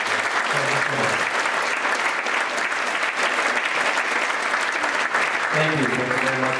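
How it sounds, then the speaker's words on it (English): Loud, sustained crowd applause for the speakers at a teen distracted-driving safety presentation, a steady close wash of clapping throughout, with voices briefly audible over it near the start and end. "One more round of applause, please, for all our speakers"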